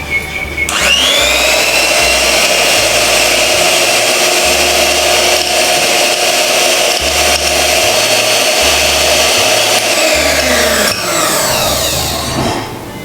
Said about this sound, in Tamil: நான் வந்து பிளெண்ட் பண்ணி காட்டுறேன் உங்களுக்கு